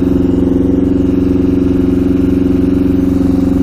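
A custom Yamaha Banshee two-stroke with a stage 4 jet kit idles loudly and close by, holding an even, rapid, throbbing beat throughout.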